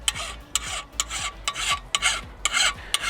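Hand file pushed across a lawn mower blade still mounted on the mower, giving a series of about seven close, loud rasping forward strokes with short lifts between them, no voices.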